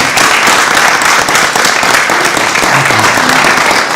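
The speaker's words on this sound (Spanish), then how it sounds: "démosle un fuerte aplauso a nuestro director general" Loud, dense applause from a forum audience for a director general, many hands clapping steadily and close, with a few brief vocal sounds mixed in.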